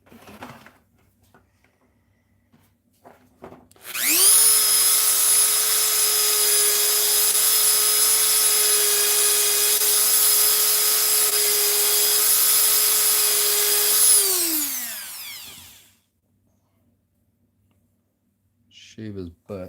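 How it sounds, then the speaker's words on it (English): A Dremel rotary tool grinds material off a scratch-built model, spinning up to a steady high-pitched whine that holds for about ten seconds before winding down, loud and close with no talking over it. "Grab Mr. Dremel."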